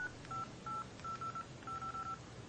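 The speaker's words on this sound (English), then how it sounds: "you can jump into the dialer, make a phone call" Keypad tones from the dialer of an LG Quantum Windows Phone 7, about nine short, clean beeps tapped in quick irregular clusters, close and clear with no talking.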